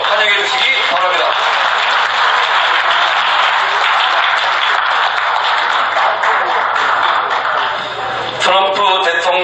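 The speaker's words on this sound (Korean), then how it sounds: "박수로, 큰 박수로 환영해 주시기 바랍니다" An audience at a Korean-language lecture event applauds to welcome a guest speaker, a sustained loud roll of clapping with voices faintly under it before it thins out near the end.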